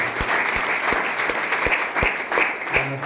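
Audience applause at a motivational RCM achievers' gathering, steady clapping from a crowd carrying through with several louder sharp claps standing out, moderately loud and continuous throughout.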